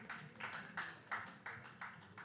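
Sparse, faint clapping from a lecture audience, about seven distinct claps in an even rhythm, thin and distant rather than a full ovation.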